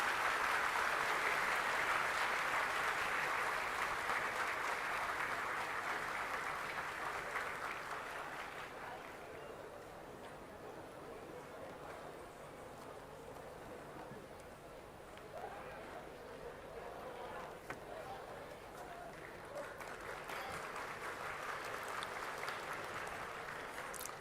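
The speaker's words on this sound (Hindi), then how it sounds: "जोरदार तालियों से स्वागत करें माननीय प्रधानमंत्री जी का" A large audience at the IECC complex inauguration in Pragati Maidan, Delhi, gives the Prime Minister a long welcoming ovation, a distant, sustained wash of applause that dips in the middle before swelling again.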